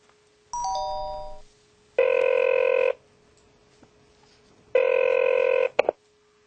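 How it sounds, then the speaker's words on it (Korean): A telephone sound effect: a short falling run of electronic dialing tones, then two steady bursts of bright electronic ringing separated by a pause, loud and clean, with no voices. "그 당시 나는 신우정에게 전화를 걸었다."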